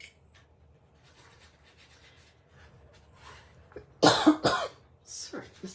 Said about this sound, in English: Getting the cough going.